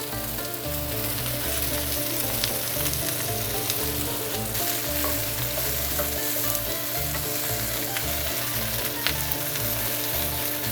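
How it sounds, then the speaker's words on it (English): Brussels sprouts and apples sauté in a pan with a loud, continuous sizzle and crackle, with occasional light clinks and scrapes as they are tossed around, and no voices. "Let's toss these around so we can cook them."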